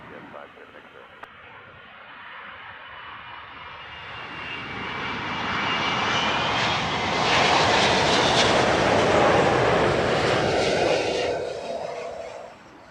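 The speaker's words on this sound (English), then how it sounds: "Tons of reverser from the Etihad King of the Skies" An Etihad airliner lands at Heathrow under heavy reverse thrust, a distant roar swelling into a loud broad rumble before fading off at the end.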